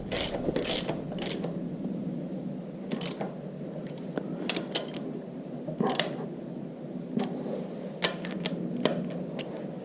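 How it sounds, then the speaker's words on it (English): Ratchet with a 9/16 inch socket working on an IHC Farmall Super MTA tractor during rear wheel and axle seal removal, steady rapid clicking over a constant background hum, close and fairly quiet. "Using a 9/16 inch socket."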